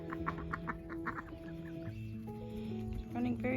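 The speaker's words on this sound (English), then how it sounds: "Our neighbor ducks." Ducks visiting a home garden give a run of repeated quacking calls, fairly close and clear, over a steady low background hum, getting louder and busier toward the end.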